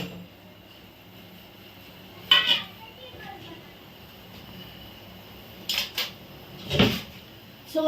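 A spoon stirs cinnamon, licorice, clove, honey and black pepper powder together in a small bowl, making a few scattered clinks and scrapes against a quiet room background.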